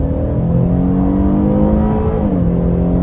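A 2024 Buick Enclave Avenir V6 accelerates hard in second gear out of a sharp turn, its engine note rising steadily and loud and close for about three seconds, with no talking.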